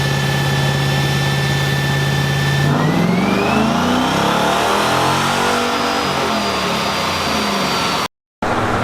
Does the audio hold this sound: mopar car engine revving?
yes